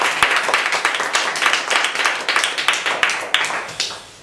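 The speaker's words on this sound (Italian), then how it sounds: "un applauso" Applause from the audience at a political association's congress in Italy, a crowd clapping with distinct sharp individual claps over a few seconds, fairly close and loud, tapering at the end.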